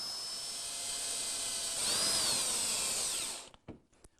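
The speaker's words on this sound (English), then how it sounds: "I'm drilling the holes with a self-centering drill bit" A self-centering drill bit bores holes in a hinge for a wooden garden deck chair, a steady high whine that rises slightly midway, then cuts off abruptly and leaves a few faint clicks and knocks.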